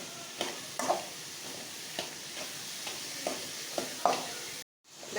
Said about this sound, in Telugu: ఎర్రగడ్డలు అయితే ఇప్పుడు బాగా వేయించుకోవాలి